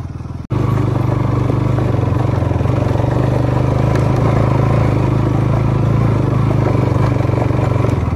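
A motorcycle engine starts abruptly and runs loud and steady at close range, a continuous rumbling drone with no voices.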